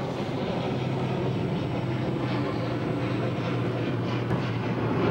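Aircraft noise near Schiphol heard from indoors through a closed window, a steady low rumbling roar that stays constant and fairly faint throughout, with no voices.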